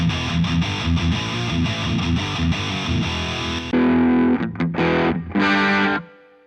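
An electric guitar played through a Boss IR-2 amp and cabinet simulator gives heavily distorted, loud chugging chords, then a few short stabbed chords and a last ringing chord that cuts off abruptly.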